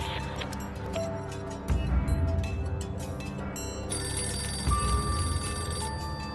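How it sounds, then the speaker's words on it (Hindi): A telephone rings with a repeating electronic trill, moderately loud and close, layered over steady background music with no one speaking. "डैड, फोन मुझे उठाने दीजिए,"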